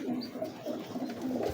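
Teddy breeder pigeons cooing close by, a soft continuous low rolling coo without talk.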